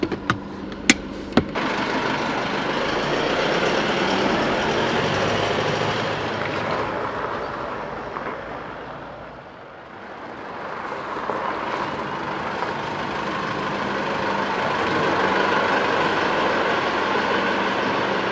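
Steady road and engine drone from inside a vehicle being driven to warm its transfer case oil, a continuous broad rumble that dips briefly mid-way before swelling again, no talking.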